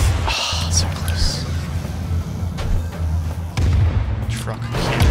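Truck cannon in the video game ClusterTruck fires with heavy booming blasts, several sharp thumps spread across a rumbling game soundtrack, with brief vocal reactions in between.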